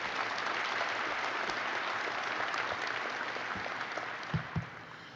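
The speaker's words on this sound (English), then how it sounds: "Round of applause for Becky." Audience applause fills the hall at a 2014 State of the City address after a mayor calls for a round of applause for a staff member; steady, dense clapping that slowly thins, with a couple of louder claps near the end.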